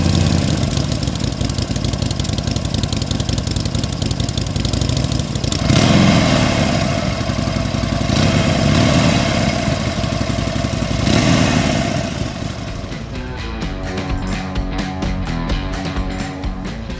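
Motorcycle engine idling close by, a steady mid-pitched rumble that swells slightly a few times before settling to a lower, thinner idle near the end.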